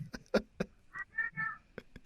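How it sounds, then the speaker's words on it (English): A pet cat named Doodle gives a few short, close meows in a row, with scattered taps and clicks before them. "Oh, there's my cat."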